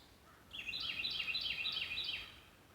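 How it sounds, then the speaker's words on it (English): A small bird in a wooded area sings a quick series of high, repeated chirps, faint and somewhat distant, starting after a short quiet stretch and fading near the end. "Hear birds."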